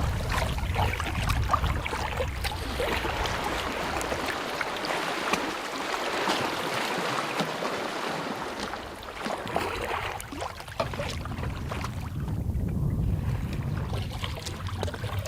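On a large, quiet lake, a boat is paddled with soft, repeated splashes and water trickling along the hull, under a faint wash of wind, and no one speaks.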